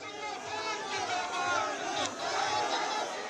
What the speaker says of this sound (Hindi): इस दौरान लगातार बीजेपी के समर्थन में नारे गूंजते रहे।